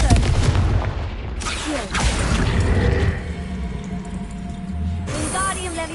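A Confringo fire spell from Hogwarts Legacy fires in loud, booming blasts with crackling bursts and mechanical rumbles. The explosive hits come in several waves, close and forceful, over game sound.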